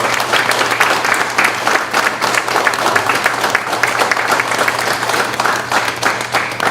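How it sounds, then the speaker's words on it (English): Loud, continuous applause from the crowd at an American Legion post's Veterans Day ceremony in Front Royal, Virginia, honoring standing service members, dense clapping sustained for several seconds over a low steady hum. "Ladies and gentlemen, let's have a round of applause for our brave service members."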